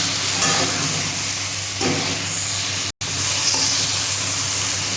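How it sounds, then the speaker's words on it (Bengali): Eggplant pieces rubbed with turmeric and salt fry in hot oil, giving a loud, continuous sizzle and hiss with a brief dropout partway through. "হলুদ মাখিয়েছি, একটু লবণ দিয়ে বেগুনটা ভেজে নেব।"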